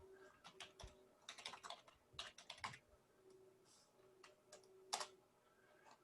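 Quiet clatter of keys on a computer keyboard, typed in irregular quick bursts with short pauses between them, close by with no talking.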